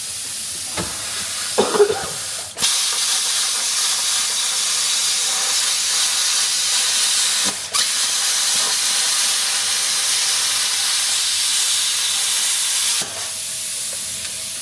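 An Everlast cutting unit running on a 15 amp plug slices through small metal pieces, giving a loud, steady hiss that cuts in abruptly, holds for about ten seconds with one brief break, then stops sharply.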